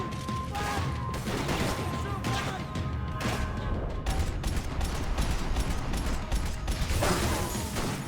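Bursts of rapid gunfire in Max Payne 3, dense overlapping shots and clattering impacts in a chaotic, loud volley, with a voice talking underneath at times.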